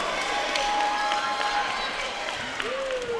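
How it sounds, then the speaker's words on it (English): Crowd applause and cheering fill a high school boys' basketball gym after a made three-pointer at a senior all-star classic, a sustained wash of clapping and shouts with a faint whistle-like tone and some voices mixed in. "that got the crowd fired up"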